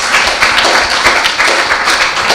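Brief burst of dense audience clapping at a St. Ann youth forum, steady and fairly loud from start to finish with no voice over it.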